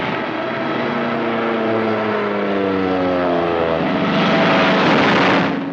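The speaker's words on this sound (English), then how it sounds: "our planes took off to tackle the Luftwaffe" WWII fighter planes take off from an airfield: a loud, continuous propeller-engine roar with shifting droning tones that swells louder near the end, as from a restored 1944 wartime film soundtrack.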